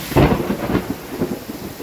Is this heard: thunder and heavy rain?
yes